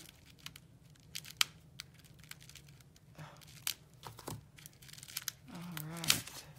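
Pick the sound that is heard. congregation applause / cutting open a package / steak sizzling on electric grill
cutting open a package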